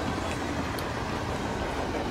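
Train cars rolling through the Hitman 3 video game level, a steady, even rumble with no distinct clacks, held at a constant moderate level throughout.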